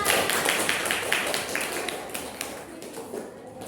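Classroom applause during a micro-teaching lesson, a dense patter of claps from a group of students that stays steady and moderately loud, then thins and fades toward the end.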